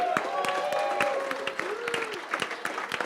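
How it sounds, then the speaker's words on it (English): Applause from an audience at a brewing business talk event, scattered claps with voices and crowd chatter mixed in, a steady moderate wash of sound. "round of applause"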